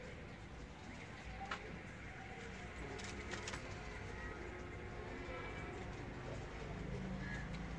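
A pair of teddy pigeons coos close by outdoors, with soft repeated calls set against a steady low rumble of background noise.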